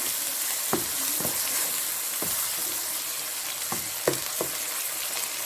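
Beef achari gosht sizzles steadily in a pan while a spoon stirs through it, with several scraping knocks spaced irregularly over the constant hiss of frying; no one speaks.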